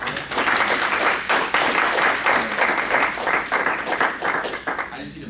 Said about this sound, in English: Let's give him a round of applause real quick.